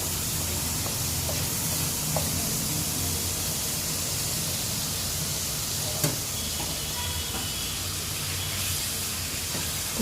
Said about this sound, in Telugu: కరివేపాకు వేసుకొని కొంచెం ఆయిల్లో ఫ్రై చేసి ఫస్ట్ వేయాలి